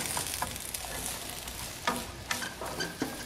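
Three chunks of potato sizzle in hot fat in a pot for fish chowder while a utensil stirs them, making steady frying crackle broken by several sharp scraping knocks, close and fairly loud.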